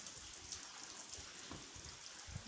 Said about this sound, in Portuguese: Tá chovendo muito aqui.